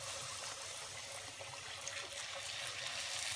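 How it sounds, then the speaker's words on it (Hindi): Pani puri dough rounds frying in smoking-hot oil for gol gappe, giving a steady, dense sizzling hiss that runs evenly throughout at moderate level, with no voices. "अब हम इसमें पानी पूरी को तलेंगे"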